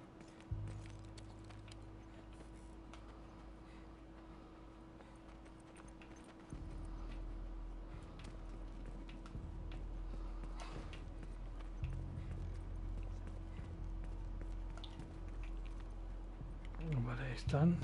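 A horse gallops in the video game The Last of Us Remastered, with steady rhythmic hoof clip-clops running through the whole stretch, shifting in pace and loudness, over a low constant hum, with a voice speaking briefly near the end.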